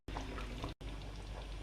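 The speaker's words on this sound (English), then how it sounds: "So this is the meatball and I'm going to pour it inside." Meatballs slowly poured into curry gravy in a kofta curry, giving a continuous wet, splashing pour that pauses briefly and then resumes, close and steady with no talking.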